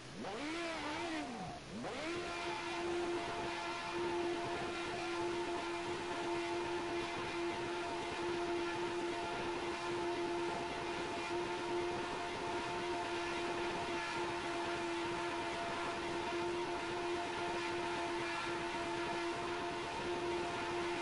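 Ford Sierra Cosworth Group A touring car in a racing game at the Nordschleife, its engine droning steadily and loud with a sustained high whine after a brief rev at the start, running without pause.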